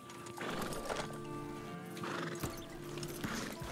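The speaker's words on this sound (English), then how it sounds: "There's a random horse right here." Horse whinnying in the Red Dead Online video game on PC, rural setting near a barn, with repeated loud neighs and snorts over steady ambient game sound and faint hoof clip-clop.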